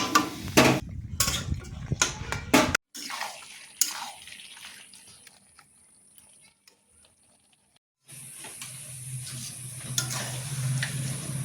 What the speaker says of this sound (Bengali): এবার কষাতে থাকি।